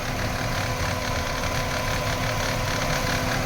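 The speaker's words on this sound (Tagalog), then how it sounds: "kita naman natin na sobrang vibration ang andar ng makina ngayon" Chevrolet Aveo manual engine idling roughly with heavy vibration and low power, a loud continuous shaking drone with an uneven knocking pulse throughout.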